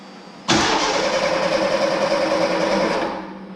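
A 1983 Ford Mustang GLX convertible engine cranks and catches, a loud broadband starter-and-engine roar bursting in abruptly after a quiet half second and holding steady for about two and a half seconds before easing off slightly.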